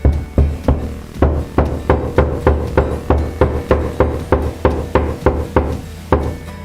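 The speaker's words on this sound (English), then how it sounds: "I'm going to pick up my hammer, and I'm going to again gently tap it into place." A hammer taps a plastic wall anchor into a wall in a steady series of about sixteen close, solid knocks, evenly spaced and moderately loud, with no speech over them.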